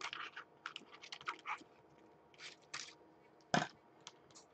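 Shrink wrap tube being cut with scissors, a run of quick soft snips and crinkles, then a few separate cuts and one sharper snip, faint and close.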